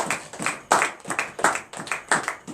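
Congregation clapping in rhythm during a morning prayer service in Benin, steady repeated bursts of hand claps close by with no talk.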